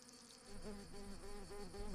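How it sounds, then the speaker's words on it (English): Worker wasps leaving their colony in an Iberian woodland buzz in a steady, wavering drone, fairly quiet, with overlapping wingbeats rising and falling. "worker wasps head out from the colony"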